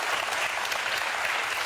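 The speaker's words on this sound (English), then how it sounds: "There's no way those people in that audience were listening to that and clapping." An audience claps in a continuous, dense burst of applause, close and fairly loud, with no voices over it.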